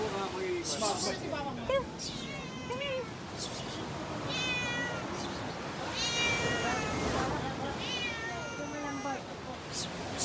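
Cat meowing at a beach resort in Batangas, a few rising meows breaking through steady babble of nearby voices and water-side ambience, people talking throughout.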